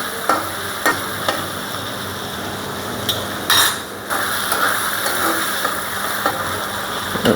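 Bitter gourd and potatoes with shrimp frying lightly in a pan, a steady sizzle with occasional sharp stirring scrapes and clinks over the whole stretch, no one talking.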